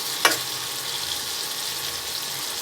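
Papaya pieces dropped into hot spiced oil, a steady loud sizzle of frying with a sharp splash at the start and another near the end as more pieces hit the pan.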